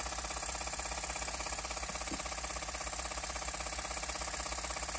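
A twin-cylinder horizontal mill-type steam/air engine with a flyball governor runs at a fast, even pace, giving a dense, continuous mechanical chuffing throughout.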